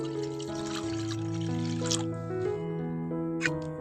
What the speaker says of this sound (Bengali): পেঁপে আলু সিদ্ধ করার জন্য জলটা দিয়ে দিচ্ছি